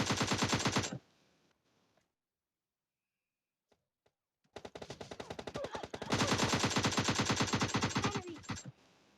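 Automatic gunfire in the PUBG Lite video game: a loud rapid burst, a silent gap with a few faint single shots, then long sustained rapid-fire bursts.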